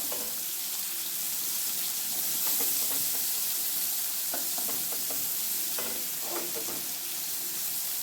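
Chopped onion frying in a hot spice tempering for a spicy matki sprouted moth bean curry, giving a steady close sizzle and hiss with occasional stirring scrapes and no talking.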